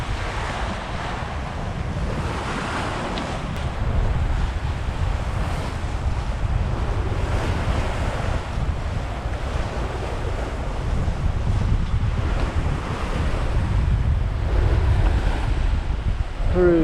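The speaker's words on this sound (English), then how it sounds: "So nice to actually be sailing for once." Waves and wind rush steadily around a Hallberg Rassy 54 yacht under sail off Florida, a loud, continuous wash of surf and gusting air with no voices.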